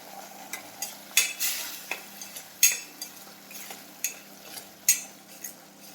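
Masala paste with a pinch of asafoetida being stirred and sautéed in a pan for cashew curry, with repeated scraping strokes and a soft sizzle, close and moderately loud, no talking.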